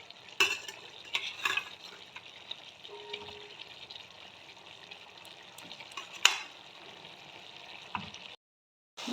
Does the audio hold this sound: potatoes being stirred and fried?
yes